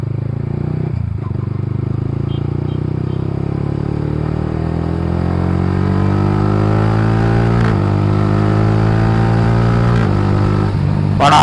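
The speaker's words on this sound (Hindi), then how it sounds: "ये क्विक शिफ्टर यूज़ करने के टाइम पे आवाज़ करता है ऐसे" A Yamaha motorcycle fitted with a quick shifter revs up through the gears. A close, loud engine tone climbs in pitch, with brief sharp breaks at each shift and a final burst near the end.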